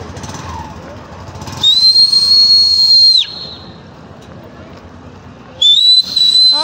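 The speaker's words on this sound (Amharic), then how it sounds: "ስልክ አልሰራ ስላለው ነው የሚያንፏጨው" A man in a town in southwestern Ethiopia whistles loudly to call people: a long, piercing, steady blast, then after a pause a second shrill whistle begins, close and dominant over faint background noise.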